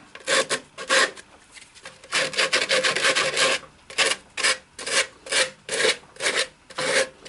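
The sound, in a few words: hand sanding a turned maple piece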